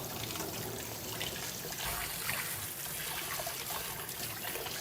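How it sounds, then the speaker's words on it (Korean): Tomatoes are rinsed under a running tap, a steady, fairly close stream of splashing water that continues evenly throughout with no talking. "먼저 토마토 씻을게요"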